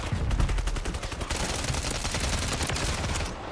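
Rapid automatic fire from an LMG, a DG-58 LSW, in Warzone 3: dense, loud bursts of shots in a steady rattling stream, heaviest in the first second and continuing throughout with no talk.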